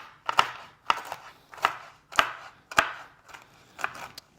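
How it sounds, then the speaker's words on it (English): Roasted pecans being chopped with a knife on a board: seven crisp, evenly spaced chops, loud and close, with short dry crunches between them. "what I'm gonna do with this pecan that they've been roasted, I am going to chop it just a little bit"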